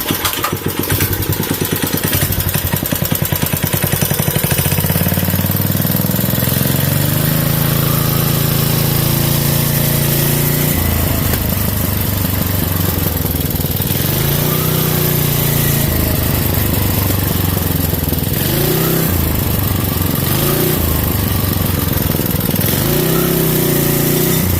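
A Vevor 30 series mini-bike engine with CVT belt drive runs steadily and loud and close, its pitch rising and falling as it revs up and settles back, with no talking.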